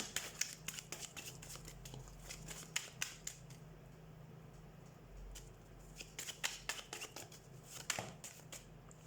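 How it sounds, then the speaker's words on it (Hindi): A deck of tarot cards is shuffled close by, quiet crisp riffles and flicking slaps in rapid clusters, pausing briefly midway before another flurry of card snaps. "हम कार्ड शफल कर लेते हैं।"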